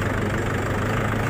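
A tractor engine runs at night on a dark rural road, a steady low rumbling idle with a constant throbbing drone, loud and close, no voices over it.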